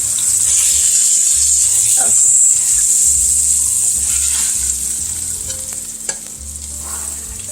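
Beef pot roast searing in a hot pan, a loud steady sizzle with a bright constant hiss and low rumbling bursts, close up, with no distinct speech.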